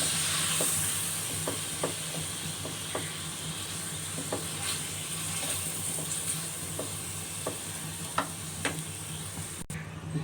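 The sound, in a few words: masala sizzling while frying for mutton paya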